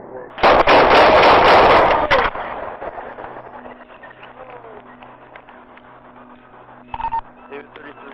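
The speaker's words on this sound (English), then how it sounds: "shots fired" Several loud gunshots from police officers in a rapid burst at close range, followed by quieter radio chatter and background noise, with a brief tone-like burst later.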